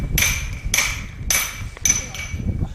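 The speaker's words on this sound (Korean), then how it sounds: "오늘도 망치를 들 수밖에요. 며칠 밤낮 정질 소리가 끊이지 않더니" Hammer striking a chisel into stone while a master stone craftsman carves a Buddha statue, four sharp ringing metallic blows at a steady, unhurried rhythm, close and loud over a low background rumble.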